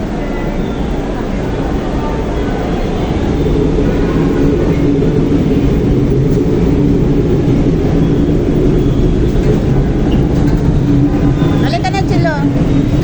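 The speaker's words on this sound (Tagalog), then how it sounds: "Sakay kami ng LRT," Loud, steady rumble of an LRT light rail train ride heading to Baclaran, continuous rolling and track noise throughout, with people talking over it.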